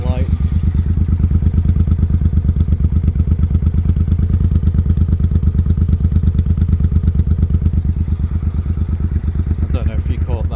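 A Suzuki C50 motorcycle engine runs steadily for the whole stretch, a close, loud, even pulsing rumble with a light mechanical clatter, heard alone without anyone talking.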